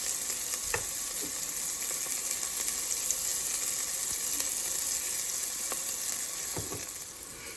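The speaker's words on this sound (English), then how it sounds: "To the hot pan, I'm going to be adding my onions and my garlic." Onions and garlic fry in a hot pan for a Thai-inspired beef noodle soup, giving a steady, loud sizzle throughout with a few faint utensil taps.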